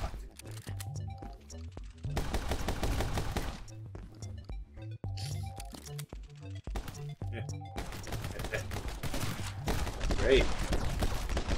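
Rapid bursts of gunfire in the action game My Friend Pedro, sharp shots fired in quick volleys and clustered strings over a pulsing music track, with a player talking at times.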